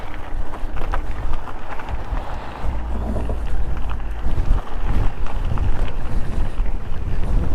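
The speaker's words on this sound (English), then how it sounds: "Quite blowy up this direction today." Strong wind gusts across the microphone on an open bridleway near Linacre and Holymoorside, a loud continuous rumbling buffet with a steady roar and no talk.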